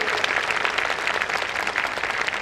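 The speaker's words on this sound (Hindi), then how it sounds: "तीसरी बार एक बार जोरदार तालियां जो आप लोग पेरेंट्स यहाँ इनको सपोर्ट के लिए भेजे।" Parents in an audience give loud, sustained applause after a children's performance, a dense, steady roar of clapping that continues evenly throughout with no speech.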